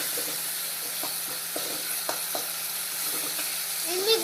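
Fish heads sizzle and spit in hot oil in a pan while being sautéed for a moong and masoor dal, a steady close frying hiss broken by small crackles and stirring ticks.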